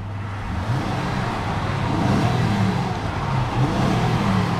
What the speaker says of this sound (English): Very hearty, nicely revving V6.